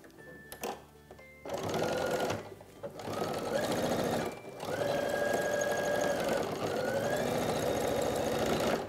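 A sewing machine stitches the elastic casing of basic shorts, its motor whirring in steady, loud runs broken by brief pauses between seams.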